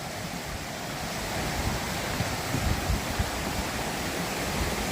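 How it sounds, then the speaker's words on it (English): Stream water rushing over rocks at an Appalachian Trail crossing on a morning hike, a steady broadband wash with low gurgling swells, continuous and close, with no voices. "I got a little bit of a stream crossing this morning."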